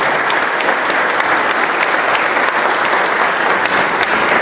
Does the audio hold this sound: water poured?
no